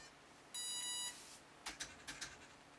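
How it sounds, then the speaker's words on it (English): A Scorpion Commander V 130A electronic speed controller emits a sustained electronic programming tone, followed by a quick series of four shorter beeps, faint and close against a quiet background hum. "Now we will hear a little different tones."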